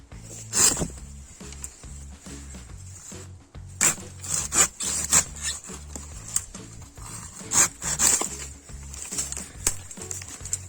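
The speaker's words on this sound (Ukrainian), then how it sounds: "Пилка має дуже агресивний різ." A garden hand saw with aggressive teeth rasps through wood in irregular bursts of strokes, with scraping and knocking in between, fairly close.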